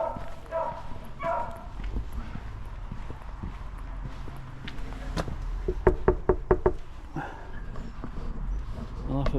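A house front door is knocked on outdoors on a cold walk, a quick cluster of sharp raps in the middle of the clip, with talk and ambient outdoor noise around it.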